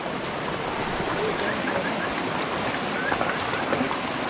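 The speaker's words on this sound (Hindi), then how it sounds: "ग्लेशियर का पानी नीचे जा रहा है जो कि लद्दर बना रहा है नीचे जाके" Glacier meltwater stream rushing downhill toward the Lidder River in the Baisaran valley near Pahalgam, a constant broadband roar of flowing water heard from a distance, steady and unbroken.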